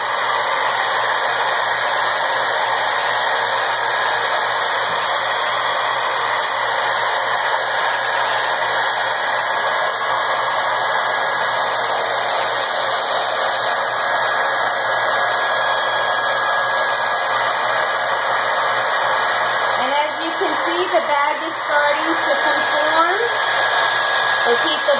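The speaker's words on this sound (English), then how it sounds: "Keep the blow dryer close." A hair blow dryer set on high heats plastic shrink wrap, giving a loud, continuous, steady whooshing roar that runs the whole time with only small shifts as it moves near the end.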